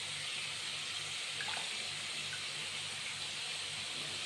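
Tap water runs to give a pet parrot a bath, a steady, fairly faint hiss that continues unbroken without any nearby talk.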